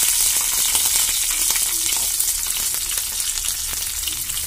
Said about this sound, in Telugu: మేము బాగా ఫ్రై చేసుకోవాలి